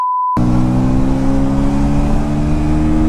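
A KTM Duke 160 motorcycle accelerating hard through the gears, a brief tone then a loud buzzing single-cylinder engine note climbing steadily in pitch, close and continuous.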